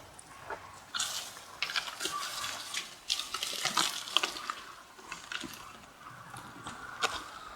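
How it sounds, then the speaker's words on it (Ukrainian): Water squeezed from a bag of fermented green grass bio-fertilizer trickles and splashes in short bursts, a close, moderately quiet wet dribbling with brief crackly spatters. "І з неї вижимається вода."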